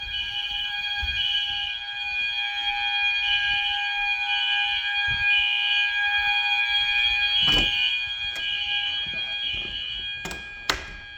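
A loud, steady 1990s outdoor warning siren system holds one piercing tone throughout, with a few brief clicks and thumps near the end.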